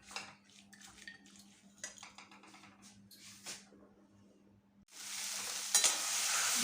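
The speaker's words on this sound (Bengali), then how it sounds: "একদম ভাজা ভাজা করে করতে হবে এটা" Taro stems (kochu data) being fried dry in a home kitchen pan: a bright, steady sizzle that swells loud in the last seconds, following quieter stirring and clinking of utensils.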